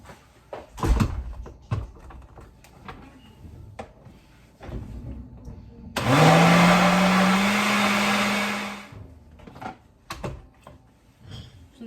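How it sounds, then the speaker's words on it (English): Blender whirring for about three seconds as it mixes key lime pie cream cheese filling with fresh lime, a steady close hum between quieter kitchen clatter. "you can put it back on the blender. So you can blend it a little bit more."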